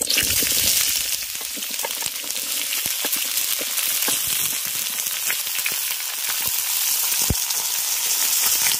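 Mixed winter vegetables (potato, pumpkin, flat beans, carrot, eggplant, cauliflower, green beans and drumstick pieces) fry in a pan of tempered oil, giving a loud, steady, dense sizzle with scattered crackles throughout, no talking.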